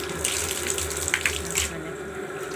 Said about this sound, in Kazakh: Және бұған жылы су құямыз.